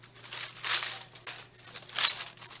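Crinkly pattern tissue paper rustles and crumples in two distinct bursts as it is handled at a craft table, close and fairly crisp, with quieter paper movement in between.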